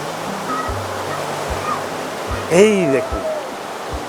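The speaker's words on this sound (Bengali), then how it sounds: "এখানে বেশ জল ভালোই স্রোতের সঙ্গে যাচ্ছে দেখছি।" The Kana river at Gurap village in Hooghly flows with a strong current, a steady, close rushing wash of water running throughout while a person speaks over it.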